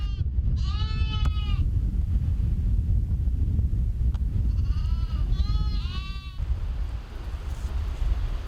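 Young goat kids bleat several times in a rural herding setting, a few short wavering cries close by over steady wind noise on the microphone, with no talking.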